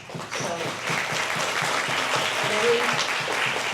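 Audience applause at a teen summit event, sustained dense clapping from a crowd filling the whole stretch, loud and steady with faint voices mixed in.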